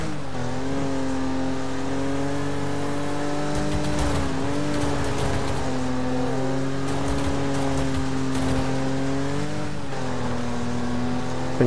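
Wreckfest race cars drive hard in a tournament event, a steady loud engine drone with shifting pitch as the throttle rises and dips, tires squealing and occasional scrapes and knocks cutting through.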